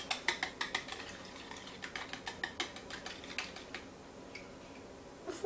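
A tiny whisk breaking up four egg yolks in a bowl for apple fritter batter: a quick run of light rhythmic clicking taps that slows and thins out, close and fairly quiet.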